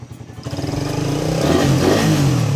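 A Suzuki Raider 150 motorcycle engine idles with a quick, even putter, then revs up into a loud, steady, rising drone close by.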